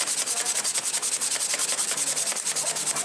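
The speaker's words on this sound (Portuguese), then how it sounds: "vou dar mais uma lixada que tá feio o negócio aqui" Sandpaper is rubbed in quick, steady back-and-forth strokes over a scissor blade being sharpened, a loud, close, gritty rasp that repeats rhythmically throughout with no voices.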